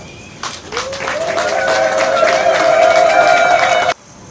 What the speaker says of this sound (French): je vous demande d'applaudir vivement